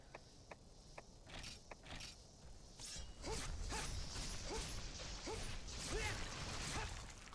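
A weapon is sharpened in Monster Hunter on PS2, with a run of sharp, evenly spaced metallic scrapes and clicks, first sparse and then growing denser and louder.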